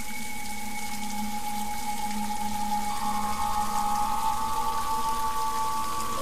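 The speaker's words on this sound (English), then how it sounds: "Oh, we have running water now." Running water flows steadily in the video game Scratches, a loud continuous rushing wash with a droning hum beneath it and no talk.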